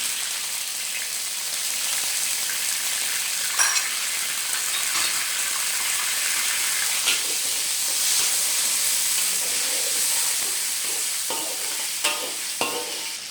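Tofu cubes and chili fry in hot oil for vegetable mihoon, a dense continuous sizzle and hiss with occasional spatula scrapes and pops rising above it.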